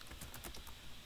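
Quick, faint taps on a computer keyboard come in a short, close burst of typing with no talk over it.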